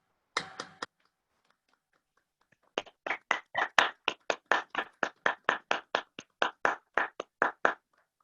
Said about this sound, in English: show your appreciation for our speakers in the usual way with a round of muted applause